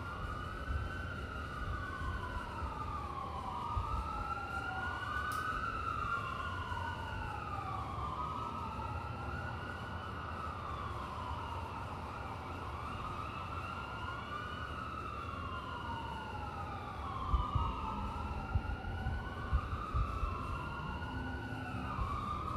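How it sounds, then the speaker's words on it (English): An emergency siren passes outside, its wail rising and falling steadily for the whole stretch at a moderate distance, with no voices. "Sorry for the siren, y'all."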